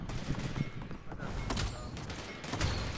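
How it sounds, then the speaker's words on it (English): Gunfire from players in a multiplayer video game, a rapid scatter of shots and sharp cracks at close to mid range, running in bursts throughout with faint voices beneath. "There's more people shooting over here."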